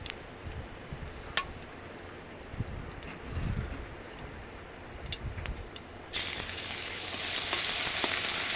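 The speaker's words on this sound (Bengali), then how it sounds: "আদা বাটাটা একটু ভাজা ভাজা হয়ে এলেই দিয়ে দেব বাকি মশলাগুলো" Ginger paste fries in hot oil with bay leaf and five-spice, giving a soft crackle that swells into a louder, continuous sizzle partway through.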